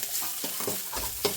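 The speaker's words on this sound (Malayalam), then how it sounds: "തേങ്ങ ഇട്ട് വറുത്തെടുക്കും. വറുത്തെടുക്കണം." Grated coconut being roasted and stirred in a pan for a Malayalam meat curry, with soft scraping strokes and a light dry sizzle that recur at an uneven rhythm, close by, with no talking.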